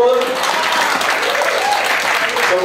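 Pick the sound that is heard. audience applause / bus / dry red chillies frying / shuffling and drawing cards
audience applause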